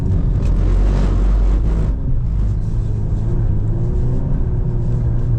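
A 2025 Volkswagen Golf R engine on track drones loud and steady under throttle with deep rumble. Brief road or tyre noise flares in the first two seconds, then the engine continues alone.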